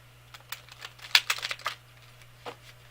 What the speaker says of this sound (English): These cards are like as big as my hand. I have a hard time shuffling them.